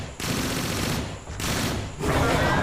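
Sustained weapons fire from the Transformers: Dark of the Moon video game, dense and continuous across the clip with brief dips between bursts, loud and close.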